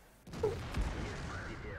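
Single tank cannon shot in the video game World of Tanks, a KV-1 or IS-3 heavy tank firing: a sudden loud blast followed by a rumbling, echoing tail.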